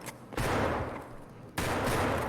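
Shotgun fire in Escape from Tarkov: two loud, sharp blasts about a second apart, each trailing off into a reverberant tail over faint background noise.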